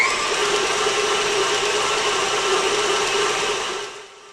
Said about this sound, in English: So be patient and let your mixer do its job.